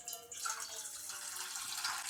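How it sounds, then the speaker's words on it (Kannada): Water runs into a cooking pan being readied for Maggi noodles, a soft continuous splashing pour with faint trickling, fairly quiet and heard alone. "ಈ ಪ್ಯಾನ್ಗೆ ನೀರು ಇಟ್ಕೊಬೇಕು"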